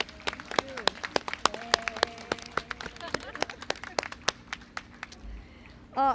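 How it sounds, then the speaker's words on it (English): Scattered claps ring out from an audience at a Denim Day 2025 press briefing in LA, sharp and uneven over several seconds, with voices talking alongside. "give a round of applause to appreciate the electeds that we have here in LA City and LA County"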